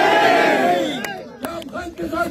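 A large crowd at a PTI political rally in NA 41 roars out slogans in a loud, surging mass of voices, which fades into scattered shorter shouts and a few sharp bursts.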